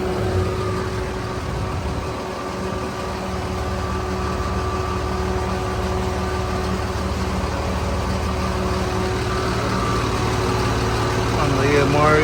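A 2005 5,000-gallon jet fuel truck runs its pump, giving a steady, loud engine drone and mechanical hum that holds level throughout, with a voice talking over it.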